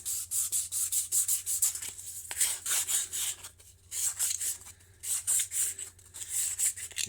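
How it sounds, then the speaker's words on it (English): Rhythmic back-and-forth strokes of 600 grit sandpaper smooth the sharp edges of a Dell'Orto PHM40 carburetor part, close, scratchy rubbing in quick repeated passes with brief pauses. "give it a little bit of a sand with 600 grit"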